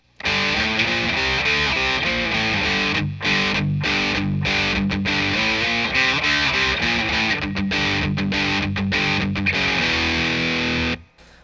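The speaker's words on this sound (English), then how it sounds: "you can put distortion on it as well, and that's how you get millions of punk songs" Loud, distorted electric guitar power chords strummed in a steady chugging rhythm, filling the whole clip with a thick, buzzing wall of sound, with a brief pause near the middle and an abrupt stop at the end.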